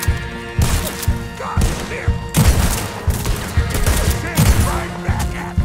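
Pistol and other gunfire in the video game Red Dead Redemption 2, with repeated loud shots and thuds in clusters over a busy, noisy game scene.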